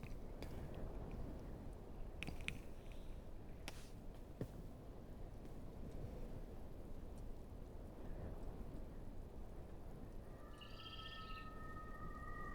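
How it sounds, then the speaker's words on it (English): Rain falls in the online game Anarchy Online, a steady, fairly faint hiss broken by a few sharp cracks and a short chirping call near the end, with no talking. "the rain in the game looks like the rain outside the window at the moment"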